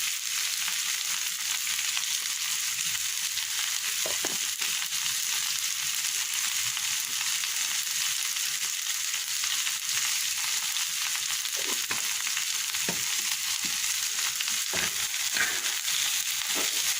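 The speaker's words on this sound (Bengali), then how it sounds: "এবার হালকা তেলে এভাবে না ঢেকে ভাজি করে নিতে হবে" Vegetables with a little chili frying uncovered in light oil, giving a constant dense sizzle throughout, broken by occasional soft stirring scrapes.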